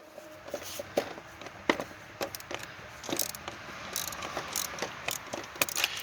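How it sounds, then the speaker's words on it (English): A ratchet wrench clicks in quick, uneven bursts while loosening the negative and positive battery terminals on a 2005 Nissan Maxima, close and moderately loud with no talking. "Loosen the negative terminal. And then loosen the positive terminal."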